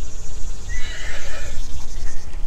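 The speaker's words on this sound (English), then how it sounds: "Little horses bark here." A small horse near a cycling path lets out a single wavering, high-pitched neigh lasting about a second, close and clear over a rumbling windy outdoor background.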